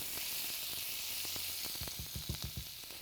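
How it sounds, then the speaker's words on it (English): Minced onion sautés in bacon drippings, sending up a constant fine hiss of frying fat that is joined near the end by a quick series of close stirring taps and scrapes in the pan. "Add a couple of tablespoons of minced onion. We want to saute that onion just a little bit."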